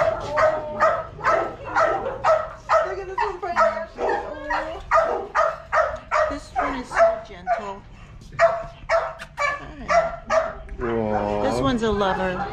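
A rescued puppy in Mexico yips and barks in rapid repeated bursts, close and loud, ending in whimpering whines, while people talk softly underneath.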